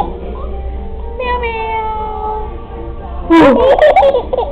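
A human voice imitates a cat's meow in a few drawn-out, cat-like calls that then break into a louder, bright burst near the end, fairly close and clear.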